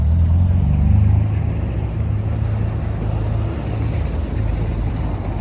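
A Lancia Delta passes at a supercar gathering, its engine a steady low rumble in traffic, loudest near the start and then settling into a continuous drone.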